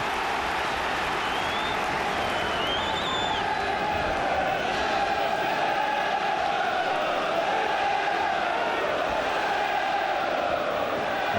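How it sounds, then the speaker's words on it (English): A large stadium football crowd at a Liverpool versus Middlesbrough match roars continuously, a dense, loud wash of cheering and chanting that holds steady throughout with no break. "Crowd have woken up"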